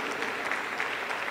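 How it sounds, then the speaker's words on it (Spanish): A Pentecostal church congregation in Huancayo, Peru breaks into sustained applause, a dense and even patter of many hands clapping together with no voices standing out. "Aplausos para ese Jesús."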